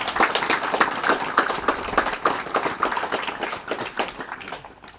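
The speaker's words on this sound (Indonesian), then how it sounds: "Untuk itu sepantasnya kita berikan aplaus untuk mereka." A school crowd claps for the students at a closing ceremony of a vocational high school orientation week, with dense, lively applause close by that slowly thins and fades toward the end.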